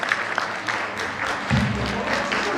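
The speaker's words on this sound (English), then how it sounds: "big congratulations and big round of applause" Applause rises from a medical conference audience of obstetricians and gynaecologists, steady and moderately loud for a few seconds, with a low murmur of voices underneath.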